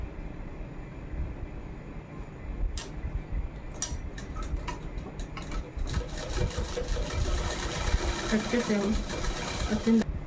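A sewing machine runs close up, stitching the sleeves onto a girl's party-wear frock with a rapid rattling hum and irregular clicks and knocks, while a voice talks over part of it.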